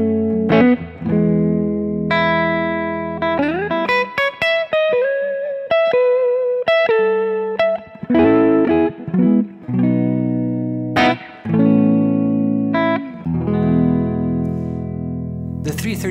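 An electric guitar with humbucker pickups played clean, picked single notes and chords ringing out with pauses between phrases, close and clear without talking.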